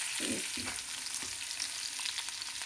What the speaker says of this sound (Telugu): ఉల్లిపాయలు వేసుకొని ముందు కొంచెం ఎర్రగా ఫ్రై చేసుకోవాలన్నమాట.